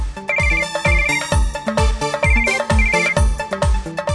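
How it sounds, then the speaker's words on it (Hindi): A phone ringtone plays a bright, repeating electronic melody with a punchy beat, loud and close, looping several times without pause. "समीर फोन कर रहा है, प्लीज उठा लेना।"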